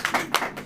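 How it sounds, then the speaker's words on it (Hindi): An audience in a church service claps, a few sharp, fairly close hand claps landing in a loose, uneven rhythm, with no voices. "ताली बजाइए इनके लिए"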